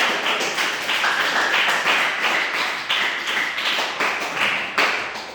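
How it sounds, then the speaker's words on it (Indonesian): Students in a sixth-grade physical education class clap in steady, dense applause, a close continuous patter of many hands with no talking, lasting several seconds. "Sekali lagi kita kasih aplaus untuk sahabat-sahabat"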